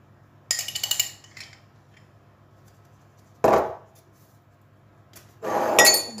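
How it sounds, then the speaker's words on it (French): Small metal spoons clink lightly against a glass jam jar while raspberry jam is scooped into spoon-shaped puff pastry shells, a quick run of tinkling taps followed by two louder scraping clatters, close and otherwise quiet. "On remplit nos petites cuillères."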